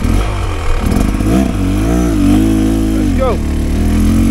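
A 2023 Beta XTrainer enduro motorcycle on a hard enduro trail in South Wales, its engine droning and revving up and down close by, with a rider talking over it.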